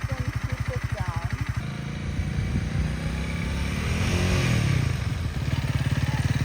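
A motorcycle ridden through real traffic by a novice, its engine thrumming and revving up and down close by, with a busy passage of mixed road noise and clatter midway before the steady pulsing engine returns.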